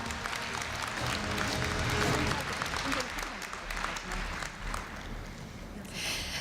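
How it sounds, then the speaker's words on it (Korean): Audience applause at a Korea University freshman entrance ceremony, a dense sustained clapping from a large crowd in a hall that peaks early and gradually thins toward the end. "큰 박수 부탁드립니다"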